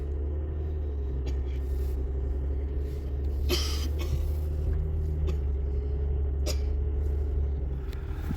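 A Range Rover rolls along a forest track with a steady low engine rumble and road noise, punctuated by a few brief bumps and clatters, with no talk.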